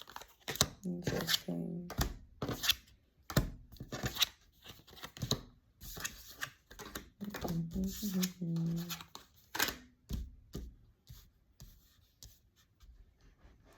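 Tarot cards shuffled and handled, soft crisp rustling and flicking in short irregular bursts under someone speaking close by.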